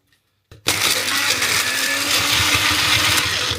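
A small food chopper blitzes torn-up stale bread, starting abruptly and running as a loud, steady whirring grind with crunching, no talk.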